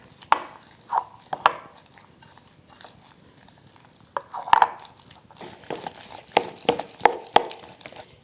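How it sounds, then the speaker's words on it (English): Greek yogurt and pepper being stirred together in a bowl, heard as a series of sharp, irregular clacks and taps of a utensil against the bowl, close and fairly loud with brief pauses. "Then we're going to stir all of this together."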